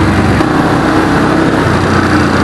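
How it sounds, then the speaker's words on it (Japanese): Loud, close engine of a Suzuki Desperado 800X V-twin cruiser motorcycle with an aftermarket Super Trapp muffler, a dry, throaty exhaust note, steady and droning throughout. "いいね、スパトラのこの乾いた音"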